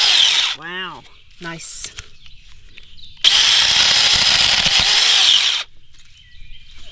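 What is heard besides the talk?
battery powered chainsaw cutting a stick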